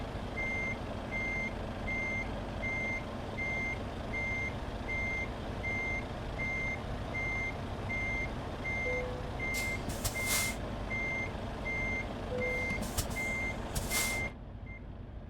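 A truck in Euro Truck Simulator 2 backs into a parking spot, its reversing beeper pulsing steadily over a constant engine drone, with two short hisses of air brakes near the end before the engine cuts off.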